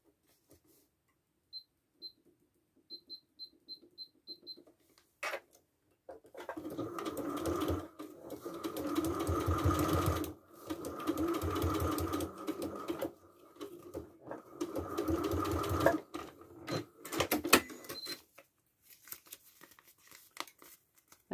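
A sewing machine stitching foundation paper piecing, first a few quiet ticks, then long steady whirring runs of stitches broken by short pauses, close and clear with no talk.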